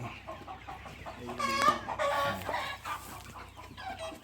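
Chickens cluck at a large chicken farm in Maharashtra, a dense flock of overlapping clucks and squawks near and far, swelling in the middle before easing off.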